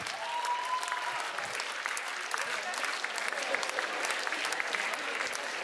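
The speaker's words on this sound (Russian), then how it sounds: "ваши аплодисменты" A crowd of veterans and townspeople at a wartime-songs holiday concert in Chelyabinsk applauds steadily, the clapping dense and sustained, with a few faint voices and a brief tonal whistle mixed in.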